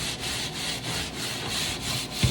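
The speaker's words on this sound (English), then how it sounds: "I'm going to actually try to scrub it" A handheld scrubber works a Dollar Tree cleaning paste across a surface in a rhythmic back-and-forth rubbing, about five close, soft strokes with no talking.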